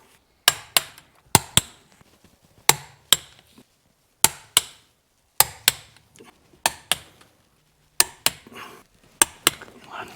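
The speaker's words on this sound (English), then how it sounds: "And now for torquing the 8 bolts here down." A torque wrench clicks sharply as it tightens the eight differential cover bolts to 45 Nm in a star pattern on a BMW E36 188mm LSD differential during restoration. The close metallic clicks come mostly in pairs, about sixteen in all, with no talking.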